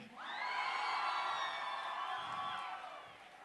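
A concert crowd at First Avenue cheering for a hip-hop act in 2009, a sustained wash of whoops and yells that swells and slowly fades, heard faint and distant.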